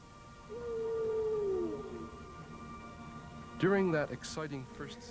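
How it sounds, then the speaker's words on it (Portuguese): Humpback whale calls drift through the ocean: a long, low descending moan, then a burst of rising and falling tonal cries, distant and alone. "me dediquei a escutar os chamados das baleias corcundas"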